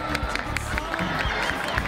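A large crowd cheers and applauds at the opening ceremony of a student Olympic festival in Reconquista, clapping and shouts blending into a loud, continuous roar with voices throughout.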